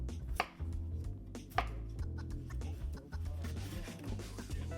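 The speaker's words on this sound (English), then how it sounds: "I'm gonna cut up our peeled potatoes" A knife chops peeled potatoes on a cutting board, giving several sharp, close thuds at an uneven pace, with quieter knife and board sounds between the cuts.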